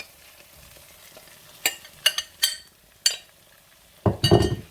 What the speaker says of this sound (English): Okay, add the eggplant.